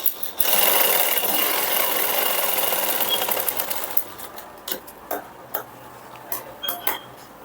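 A domestic sewing machine runs a continuous stitching burst along the seam of a princess-cut blouse, loud and close, then slows into a series of short separate clicks and taps as the fabric is adjusted.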